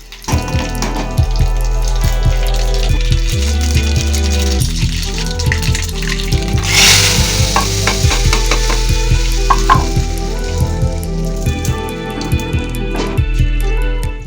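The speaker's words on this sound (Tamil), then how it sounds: "அதுக்கு ஜீரகம், வெந்தயம், காஞ்ச மிளகா போட்டு தாக்கணும்" Hot oil sizzles and crackles continuously as cumin, fenugreek and dried red chillies fry, with a sharp burst of spitting in the middle and clinks from stirring.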